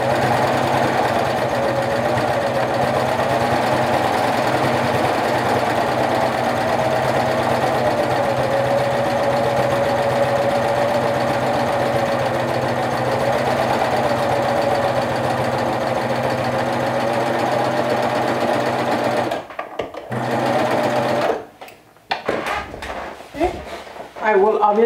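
A sewing machine topstitching fabric pant legs whirs steadily and closely for about twenty seconds, then stops and restarts in short bursts, with some quiet talk nearby.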